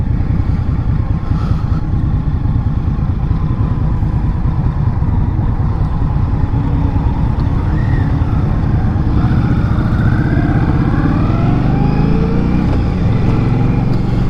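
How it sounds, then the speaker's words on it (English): A 2022 Indian Scout Rogue motorcycle runs steadily on the road with a quiet exhaust, its low engine drone blending with constant wind rush for the whole stretch and a slight rise in pitch toward the end. "I can't get used to the exhaust being so quiet though."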